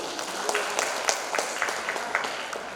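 Hall applause at the Duta Bahasa Bangka Belitung 2026 final, a steady wash of many hands clapping at moderate volume, slightly distant, with scattered sharper claps standing out.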